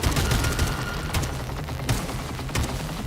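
Enemy projectiles explode in Atomic Heart combat, a few sharp, loud bursts spaced about a second apart over dense gunfire and mechanical noise.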